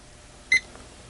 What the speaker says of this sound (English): Now, interestingly, it does beep a little bit.